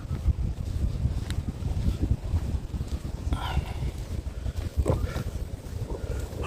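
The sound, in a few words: cold wind blowing outdoors at a wetland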